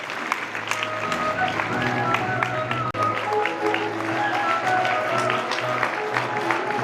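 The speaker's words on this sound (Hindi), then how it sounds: "बस अभी के लिए तालियां बजा दें" An audience applauds at a youth gram sabha gathering, a continuous dense clatter of clapping hands in a hall over a low steady hum, with a brief dip midway before resuming.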